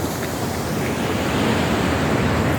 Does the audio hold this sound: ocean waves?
yes